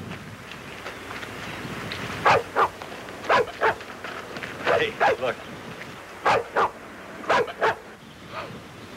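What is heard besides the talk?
dog barking inside a van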